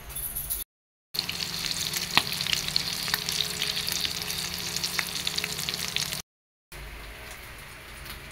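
A shrimp paste omelette (tortang alamang) with plenty of garlic and onion frying in hot oil, a steady crackling sizzle with small pops, cut by two brief silent gaps.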